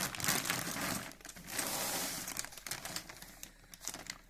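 A plastic bag holding plumbing supplies crinkles and rustles up close in quick irregular bursts, with no talking.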